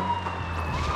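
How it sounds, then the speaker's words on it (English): A police car siren in the video game APB Reloaded wails with a steady, rising electronic tone over light vehicle rumble, heard briefly and fairly clearly. "Put your siren on."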